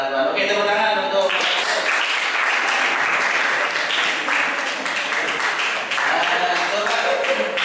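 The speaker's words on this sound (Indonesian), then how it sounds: "Oke, tepuk tangan untuk" Steady audience applause in a classroom or religious study session, continuous close clapping throughout, with a brief voice at the start.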